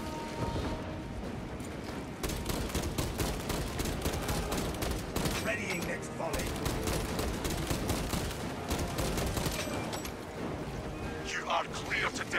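Dense gunfire volleys rattle in Warhammer 40k Space Marine II combat, rapid automatic bursts and booms packed tightly and loud throughout, with voices speaking over the shooting.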